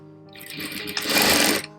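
A sewing machine runs a straight stitch in one short burst, its motor whirring up to a fast, even rattle of the needle and then stopping, close and loud.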